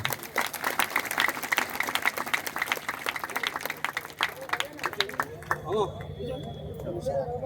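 A crowd at a Hanuman Chalisa recitation gathering in Uppal stadium claps loudly and steadily for several seconds before the applause thins out under a lingering hum.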